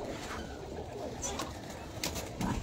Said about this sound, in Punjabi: ਕਾਫੀ ਤਾਦਾਦ 'ਚ ਵਧੀਆ ਕਬੂਤਰ ਆ ਗਏ ਨੇ ਔਰ ਐਂਟੀਕ ਕਬੂਤਰ ਆਏ ਨੇ